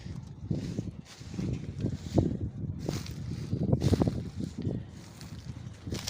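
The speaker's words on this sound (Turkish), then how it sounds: "Bugün çok rüzgar var." Steady gusty wind buffeting the microphone, a continuous low roaring rumble that swells and fades with the gusts, with no voices.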